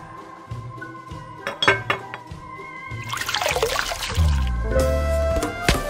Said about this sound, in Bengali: সিঙ্ক থেকে গ্লাস নিয়ে সেগুলো সাজিয়ে শরবত ঢালে।